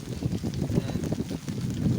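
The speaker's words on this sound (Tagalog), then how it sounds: "Medyo malakas po ngayon yung hangin, tsaka medyo maulan." Strong gusty wind sweeps across an island in rainy, stormy weather, buffeting the microphone with low, uneven rumbling surges that rise and fall close up, with no talk.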